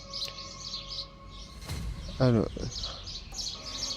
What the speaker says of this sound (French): désolé pour le bruit des oiseaux, je suis dehors.